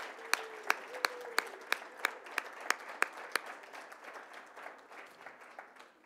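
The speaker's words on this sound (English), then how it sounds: "Let's give another round of applause," Sharp claps ring out in a steady, evenly spaced rhythm at a high school Hispanic Heritage Month celebration, with softer clapping and murmur underneath. The beat grows quieter and looser toward the end.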